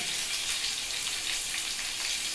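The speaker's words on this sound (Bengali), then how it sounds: "দিয়ে এটাকে একটু হালকা তেলের মধ্যে ভেজে নিতে হবে" Chopped onion and a split green chili frying in a little oil, a steady close crackling sizzle that holds evenly from start to finish with no voices.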